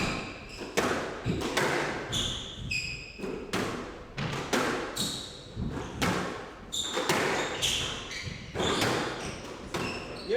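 Crisp, hollow squash ball strikes echo around a court in a men's professional final, arriving in a steady rally rhythm of roughly one hit per second, each thud ringing briefly with squeaks of shoes between.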